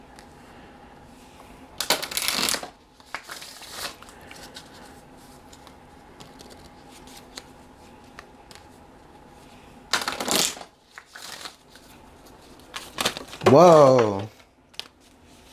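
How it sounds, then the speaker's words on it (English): Tarot cards being shuffled and spilling: two short riffling bursts, then a longer clattering slide as the deck scatters, with a quiet room between and a brief exclamation from a voice. "Literally all my cards just spilled."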